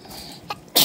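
A young child sneezes once, a short sharp burst at the very end after a quiet moment, close and fairly loud.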